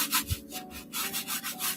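A stiff brush scrubs the yellowed lower sole of a sneaker in quick, close strokes, giving a steady rubbing, sanding-like texture with a few short pauses.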